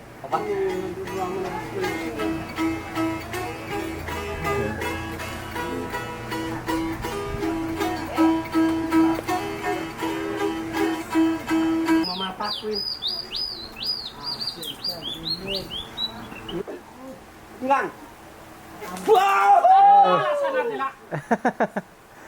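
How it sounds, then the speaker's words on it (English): A Palawan two-string guitar, the kudlungan, plays boget, the tribe's bird-song music, in a bright plucked rhythm for about twelve seconds, followed by sparse whistled bird-like calls and brief laughter and chatter at the end. "the kudshopi or kudlungan, the two-strings guitar of Palawan tribe"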